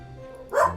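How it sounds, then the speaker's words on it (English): A dog barks once, close and loud, as a short sharp burst with a brief whine at the tail end, heard alone with no talking. "I apologize for the dogs barking."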